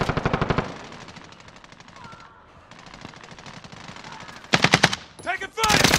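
Rapid automatic gunfire in the shooter game Call of Duty Modern Warfare, loud bursts at the start and again near the end, with lighter battle noise and effects between them.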